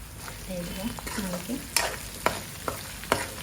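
Onions, ginger-garlic paste and curry leaves fry in oil with a steady sizzle, broken by several sharp clanks and scrapes of a stirring spoon against the pan.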